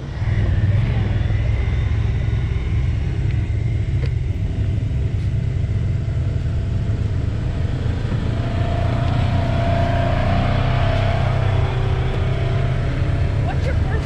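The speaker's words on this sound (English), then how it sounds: "Today, we're on a side-by-side ride" A side-by-side utility vehicle rumbles along on a ride through open country, its engine a steady low drone throughout with road and wind noise, while people talk over it.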